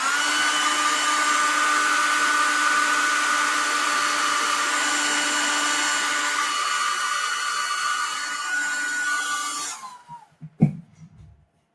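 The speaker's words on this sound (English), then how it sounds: "Now, I'm going to hit this with the blow dryer." A blow dryer runs at close range over marble-effect nail paint, a loud steady whirring hum with a whine that holds for about ten seconds, then cuts off, followed by a couple of brief handling knocks.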